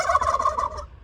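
A flock of turkeys on a muddy, rainy farm gobbles in a quick, warbling burst lasting about a second, close and fairly loud, with no talking over it.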